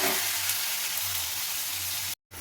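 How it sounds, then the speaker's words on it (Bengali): Onion paste with spices frying in a pan for a raw banana kofta curry gives a steady, dense sizzle that runs evenly and close by, then cuts out abruptly just before the end. "এবার আমি পেঁয়াজটাকে ভালো করে ভেজে নেব।"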